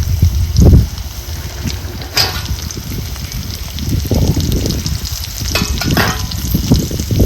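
Ground green chili paste sizzles and crackles in a pan with already-roasted onion, a close frying hiss broken by scraping stirs and bursts of spatter, with no speech.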